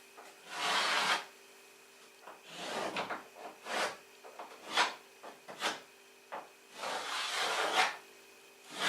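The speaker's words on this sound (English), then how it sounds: "Now we're gonna draw some lines on the bottom" Pencil drawing lines on the underside of a wooden workbench, several separate scratchy strokes of varying length with pauses between, close and fairly quiet.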